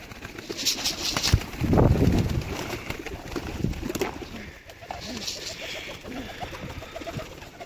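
Pigeons in a Sinop loft after a hawk attack, a low burst of wing flapping followed by soft cooing and scattered bird calls, close and moderately loud over outdoor background noise.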